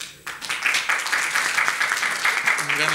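Audience applause in a theater setting, at a post-screening talk about the ICTUS theater company, rising quickly into dense, sustained clapping from a crowd that holds steady throughout, with a faint voice near the end.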